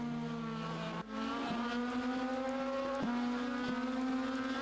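Race cars lapping a test track, with a steady, loud engine note that shifts gear abruptly around the one-second mark, then holds a high, sustained drone with small gear changes, no voices.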